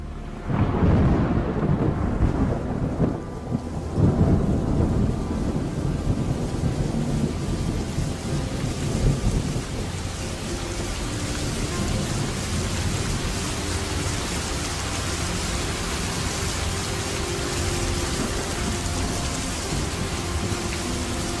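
Heavy rain pounds a roof in a thunderstorm, with loud rolling thunder early on and a dense, steady downpour hissing throughout.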